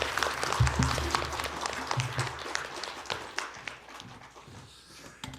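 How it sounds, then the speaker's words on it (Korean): A church congregation gives a warm welcome applause as the pastor comes up to preach, moderately faint scattered clapping in a hall, with low footsteps and thumps beneath it as it gradually fades. "우리 목사님 따뜻한 박수로 맞이하겠습니다."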